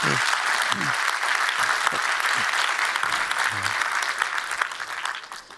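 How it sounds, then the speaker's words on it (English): A conference audience applauds in a sustained, dense round of clapping that stays loud throughout and thins slightly at the end, with a voice faintly audible underneath. "Let's give another round of applause."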